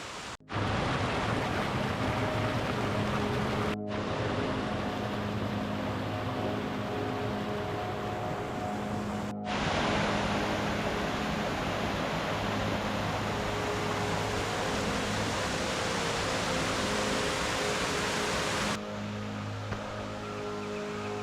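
Mountain valley stream running through mossy rocks, giving a steady, dense rush of water that continues without a break, interrupted only by a few short cuts.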